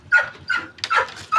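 Pet dog at home lets out a few short, close yips and barks in quick succession, sharp and high-pitched with brief gaps between them.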